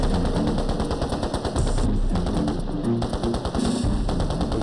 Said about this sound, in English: Every man opens up his weapon on full automatic.